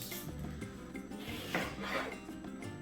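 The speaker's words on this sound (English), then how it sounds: "I'm going to chop it in half and then slice it into thirds or quarters" A knife cuts through a red onion on a board, giving close, dry rasping strokes with a couple of sharper crunches near the middle and no talking.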